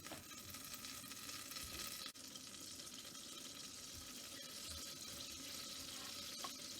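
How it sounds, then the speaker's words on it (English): Butter melts in a hot pan over medium heat, giving a steady, close sizzling hiss with faint crackles throughout and no voices. "So I'm going to pop in my butter into the hot pan, and I'm going to let that melt down."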